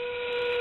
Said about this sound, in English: There's that endgame whistle now.